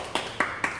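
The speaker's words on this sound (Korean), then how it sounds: "박수 쳐야 됩니다 이거는 진짜" Three separate, crisp hand claps, spaced at a quick, even pace, come from a close speaker celebrating during a BTS live broadcast, with a quiet room tone between them.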